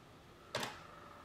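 A camera shutter fires once, triggered by a RainbowImaging 100-meter 2.4 GHz wireless shutter release: a single short, crisp click in an otherwise quiet room, fairly faint.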